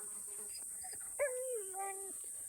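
A wolfdog whimpers in a short, high, wavering whine that rises and bends downward, near but fairly soft, over a steady background hiss.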